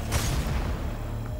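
A gun fires in the Doom 2016 game: a single heavy, booming shot right at the start, loud and close, with a rumbling tail that fades over about a second.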